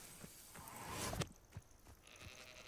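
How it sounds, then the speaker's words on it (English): A sheep bleats in the video game Hogwarts Legacy, one wavering cry at moderate distance over quiet game ambience, followed by a few soft thumps. "Sheep!"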